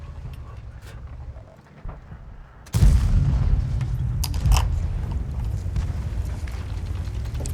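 A tank cannon shot in the video game World of Tanks, a sudden loud boom followed by sustained low rumbling battle ambience with a few sharp cracks.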